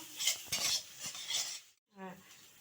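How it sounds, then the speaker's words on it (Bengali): Fish curry with coriander leaves stirred in a metal pan, heard as a few close, soft scraping strokes with a light sizzle, then a brief pause and a clink of utensil. "এই ধনে পাতাটা দিয়ে একটু নেড়ে চেড়ে নেওয়া হলো"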